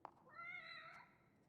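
A cat in The Evil Within's The Assignment DLC lets out one drawn-out, tonal meow, faint and fairly close, after a brief click.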